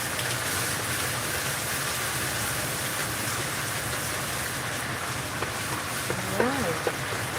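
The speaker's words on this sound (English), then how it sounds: "We will add a little bit more of my olive oil just to, really saute." Olive oil sizzles in a hot pan while a fresh tomato and basil pasta sauce is cooked. A dense, even hiss holds steady and close for the whole stretch.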